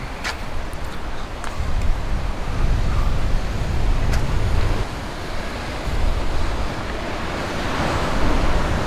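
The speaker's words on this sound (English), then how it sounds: "And yes, you can see some waves coming in here." Ocean waves rolling onto a beach on Molokai's west side in Hawaii, a continuous broad surf roar swelling and easing, with wind buffeting the microphone throughout.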